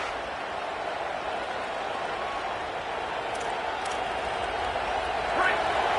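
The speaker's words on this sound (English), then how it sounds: "The roar of the crowd trying to fuel this defense to keep them pinned in their own end." Steady crowd roar fills a football stadium during the second quarter as fans cheer on the defense, a dense, continuous wash of voices with a broadcaster talking over it.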